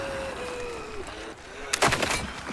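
One sharp gunshot from a pistol in a video game lands as a headshot late on, a brief loud crack with a short tail, preceded by quieter game ambience and tonal effects.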